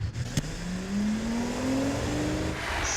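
In a car-tuning video game, a turbocharged engine revs up with a steadily rising drone and climbing pitch that holds close and loud for a few seconds, ending with a faint high whine. No one speaks.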